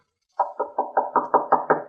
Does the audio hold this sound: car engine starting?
no